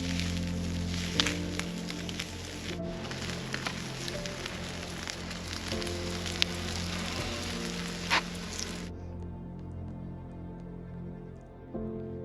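Steak grilling over an open campfire in the snowy backcountry at East Stave Lake, a steady close crackling sizzle with scattered pops that drops away sharply near the end, leaving a quieter hiss.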